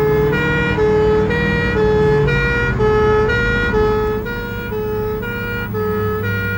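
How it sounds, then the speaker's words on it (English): Two fire pump engines race to a house-fire exercise with sirens wailing continuously, a loud, steady two-tone cycling pattern over rumbling engine noise throughout, no talk. "Two pump engines race to an exercise at a domestic house fire."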